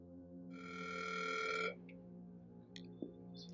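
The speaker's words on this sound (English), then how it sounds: "Oh, we get to hear the phone Mom." A telephone rings in a TV drama: a single electronic ring tone of about a second, faint and steady over a low background hum, followed by a few small clicks.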